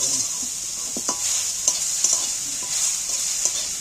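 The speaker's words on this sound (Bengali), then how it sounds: "শাকটা দিয়ে এবার আমি নেড়ে চেড়ে নিচ্ছি" Kalmi greens fry in a hot pan with a continuous sizzle. Scraping stirring strokes and light clicks of a utensil against the pan break through it at irregular intervals. It is close and clear with no talking.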